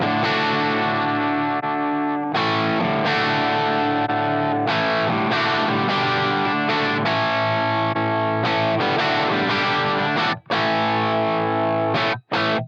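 Distorted electric guitar chords ring out through a Blackstar JJN 50 amp sim on its sag power setting, a saturated tone, sustained strums with a few brief cutoffs near the end.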